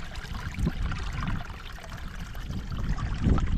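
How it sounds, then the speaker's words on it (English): Natural spring water flowing out of the ground at a healing springs site, a close, continuous trickling and pouring with a few louder splashy surges. "There's more of the spring water coming out here."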